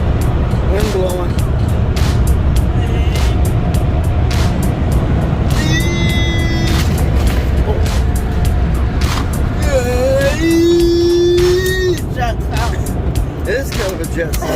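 Car wash air blowers roaring steadily as they dry a truck, a loud constant rushing wind noise with people talking over it at times.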